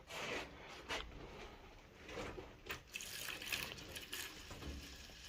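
A 50-50 cleaning fluid mixture for piston tops is poured into a container, a quiet trickling and splashing that comes in soft uneven bursts, fairly close.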